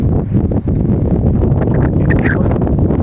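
Strong wind in Jerusalem buffeting the microphone in a loud, continuous rumbling roar, with faint rustling underneath and no speech.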